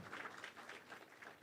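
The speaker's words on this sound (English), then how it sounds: "Let us give them another round of applause." Audience applause at a Kenya National Examinations Council event: faint, distant, soft clapping swelling in gentle pulses for just over a second.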